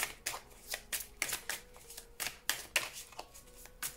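Tarot cards are shuffled by hand in quick repeated riffles, a series of crisp papery bursts and flutters, close and fairly quiet with no talking.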